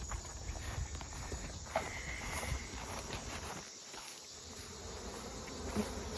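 Honey bees buzz densely around an open hive, a continuous close swarm hum filling the air with individual bees droning past near and far.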